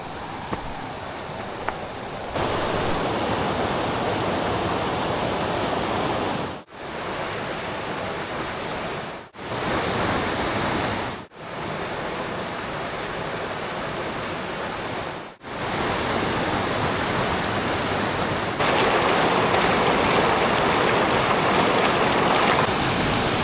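Loud, close rushing water of the Swift River in New Hampshire flows steadily, a continuous broad hiss broken by a few brief cuts.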